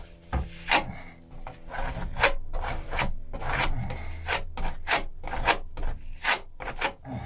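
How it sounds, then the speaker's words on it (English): Sanding on the wooden underside of a boat deck, a close, steady rasping rub that comes in repeated strokes of uneven rhythm, with no talking. "we can sand that off, get that smoothed out"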